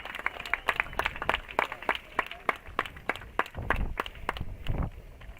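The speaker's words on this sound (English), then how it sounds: "Let's give a big round of applause for our Dunedin High Navy Junior" A crowd at a high school baseball playoff game applauds a Navy Junior ROTC honor guard with scattered, moderately distant claps that swell and fade over several seconds.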